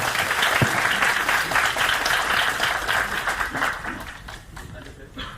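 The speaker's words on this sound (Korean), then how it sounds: "우리 강연해주신 한동훈 대표님께 다시 한번 큰 박수를 부탁드리겠습니다" A lecture audience of university students applauds Han Dong-hoon in a loud, dense burst that gradually thins out toward the end, with some voices mixed in.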